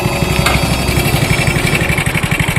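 A motorcycle engine runs close by with a steady, loud, throbbing idle pulse that continues without a break.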